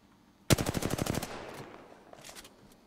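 A single loud burst of automatic gunfire in a video game battle royale shootout, about ten quick rounds that trail off into an echo, followed by a few faint distant shots.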